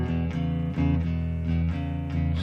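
A guitar plays the opening bar of a 12-bar blues walking bass line, slow and even, with a steady stepping run of sustained low notes that change about every half second.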